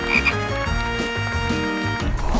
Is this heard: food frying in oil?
no